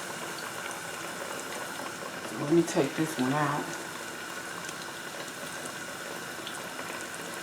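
A steady bubbling sizzle of fish frying in hot oil runs throughout, with a brief spoken remark over it partway through.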